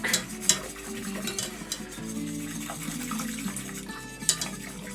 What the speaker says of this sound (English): So I'm just going to thicken up this hot milk.